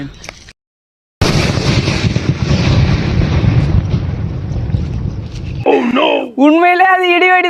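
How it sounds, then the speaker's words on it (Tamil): An idi vedi firecracker goes off outdoors with a loud, sustained roaring blast after a brief silence, filling several seconds before fading, followed by wailing, shouting voices reacting. "உண்மையிலே அது இடி வெடி தாங்க, செம்ம சவுண்டு."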